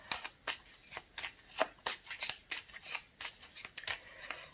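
A deck of oracle cards is shuffled by hand for a reading, giving rapid bursts of crisp riffling and flicking in an irregular rhythm, close and with no talking.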